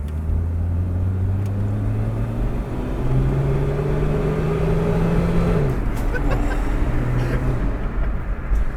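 A Volvo 240 wagon powered by twin 13B rotary engines drives along, its low engine drone loud and continuous, rising in pitch and then dropping as it shifts gears.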